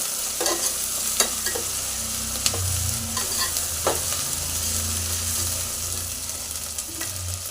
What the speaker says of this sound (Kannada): ಈ ಥರ ಫ್ರೈ ಮಾಡ್ಕೊಡ್ತಾ ಇದ್ದೀನಿ ನೋಡಿ